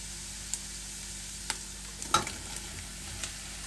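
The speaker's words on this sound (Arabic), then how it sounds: "وبنقليهم لحتى يدبلوا وياخذوا لون" Mushrooms fry over softened onions in a pan for mushroom soup, a faint steady sizzle broken by a few soft clicks and stirring knocks, with no voices.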